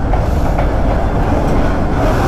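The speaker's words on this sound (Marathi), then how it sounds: "रेल्वे ट्रॅक क्रॉस करतोय" A vehicle on a coastal road trip crossing a railway track, heard as a loud, dense, continuous rumble with faint rhythmic clatter throughout.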